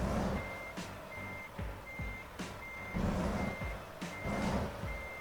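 Steady, evenly spaced reversing beeps from a truck in American Truck Simulator repeat throughout, sounding over a low engine rumble with occasional thumps and hisses.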